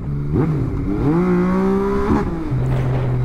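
Yamaha MT-09 motorcycle with an Akrapovic exhaust, revving nearby: a rising, wavering engine tone climbs and holds, drops away, then settles into a steady lower idle.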